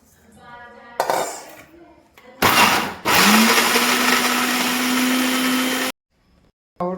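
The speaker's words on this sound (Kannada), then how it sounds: "ಇನ್ನು ಇದನ್ನ ಮಿಕ್ಸಿ ಒಳಗೆ ಸಣ್ಣ ಮಾಡ್ಕೊಂಬರೋ" A kitchen mixer grinder pulverizes leftover chapati pieces into powder for madli laddu. After some clinks and a short burst, it runs loud and steady for about three seconds with a whining motor tone, then cuts off abruptly.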